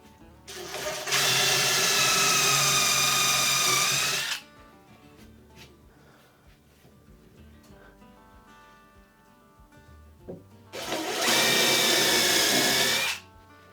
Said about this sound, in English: I'm just going to pre-drill it through the board, but not into the joist